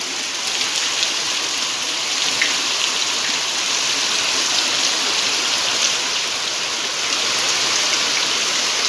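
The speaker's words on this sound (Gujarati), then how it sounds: "જોરદાર વરસાદ આવ્યો" Heavy rain pours down in a dense, continuous hiss, steady and close throughout with no voices, in Surai village, Gujarat.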